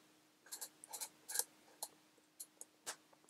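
Crisp clicks from a Wera torque wrench mechanism, about a dozen short ticks in an uneven sequence, close and fairly quiet with a faint hum behind them.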